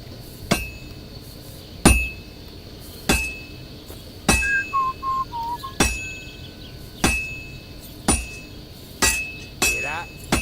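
A hammer rings on heated metal at a blacksmith's anvil in Kingdom Come: Deliverance 2, sharp metallic clinks struck one at a time in an even rhythm, about eight blows, with a brief whistling tone between two strikes.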